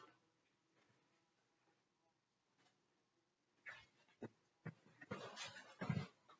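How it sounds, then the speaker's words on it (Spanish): A large bee trapped inside a house gives off a faint, thin buzz at first, then louder bumps and rustling sounds pile up toward the end. "Tenemos una abeja muy grande aquí en la casa que está tratando de escaparse."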